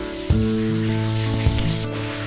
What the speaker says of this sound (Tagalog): Medyo habang nagpiprito pa, may nagnanakaw.